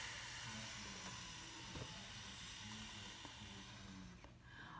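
A voice imitates a lawn sprinkler's steady whispering hiss, a faint continuous breathy shush that holds evenly for several seconds before trailing off, with no words spoken.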